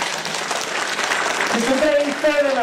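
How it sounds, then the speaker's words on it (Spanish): A church congregation claps during a Christmas service, a loud dense burst of applause with a voice rising over it toward the end. "Un fuerte aplauso a Jesús."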